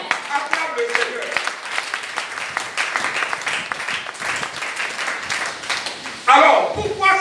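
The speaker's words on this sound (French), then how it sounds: "Acclame le Seigneur." A church congregation claps and cheers in praise, the applause rolling on steadily under a preacher's continuing voice and swelling near the end.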